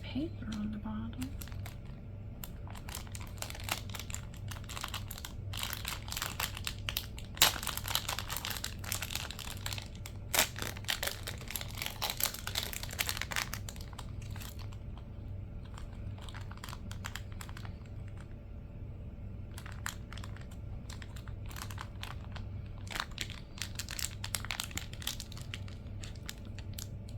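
Paper crinkling and crumpling while it is pressed onto the base of a carnival-themed fabric craft, a busy rustling texture running close throughout under steady low background noise, with speech nearby.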